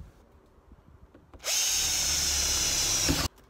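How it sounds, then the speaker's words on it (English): A power drill bores holes for a roof fan in a home-built house on wheels, one loud continuous burst of about two seconds that stops abruptly, near and alone. "that's the holes all drilled"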